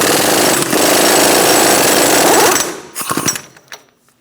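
Pneumatic impact wrench with a 36mm socket hammering loose the axle nut on a 2012-2020 Chevrolet Sonic, a loud continuous rattling burst for about two and a half seconds, then a few short clanks as it stops.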